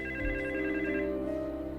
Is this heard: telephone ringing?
yes